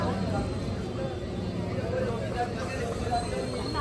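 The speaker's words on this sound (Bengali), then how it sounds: "তো এই যে চলে এসছে আমার হাসনাবাদ যাওয়ার ট্রেন, 9 কোচের দিয়েছে" A 9-coach train bound for Hasnabad pulls into a station platform, its steady rumble and rolling rail noise loud and continuous, with crowd chatter mixed in.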